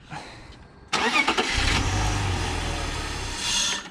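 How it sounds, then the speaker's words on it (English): A BMW E46 with a suspected fuel pump fault is cranked after a spray of brake cleaner; a brief starter whir breaks into a loud, close engine catch that runs roughly for a couple of seconds and then fades. "I'm gonna have her crank the car"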